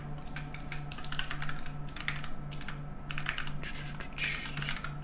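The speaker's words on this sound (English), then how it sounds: "Quickly typing something..." Quick clatter of typing on a computer keyboard during a Java programming stream, coming in short bursts of keystrokes with brief pauses over a faint steady hum.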